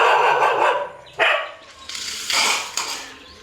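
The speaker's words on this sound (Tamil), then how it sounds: "வீட்டில் இருந்த வளர்ப்பு நாய்கள் மற்றும் அதன் குட்டிகளையும் வீட்டோடு சேர்த்து பூட்டி வைத்து" Pet dogs locked inside a house bark in a few separate bursts, muffled and moderately close, over a steady low background with no voices.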